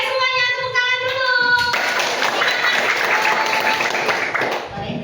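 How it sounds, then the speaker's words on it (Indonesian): Classroom of students clapping together as an icebreaker, a dense, steady burst of applause close by, preceded by brief chatter and children's voices. "Oke, semuanya tepuk tangan dulu."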